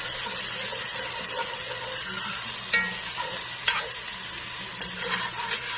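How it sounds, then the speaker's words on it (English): Minced garlic stirred and frying in a pot for smothered cabbage, a steady broadband sizzle with a few brief clinks and scrapes of the spoon, heard close and alone. "So we're just going to add in 2 teaspoons of our minced garlic. Let me move that around for a couple of minutes."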